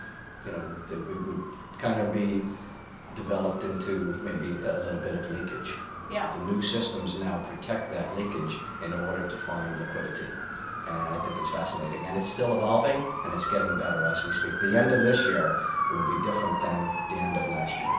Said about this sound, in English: So apologies for the sirens.